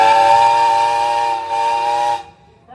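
A steam whistle on a Peerless steam traction engine blows one loud, steady, close tone for about two seconds and then cuts off sharply.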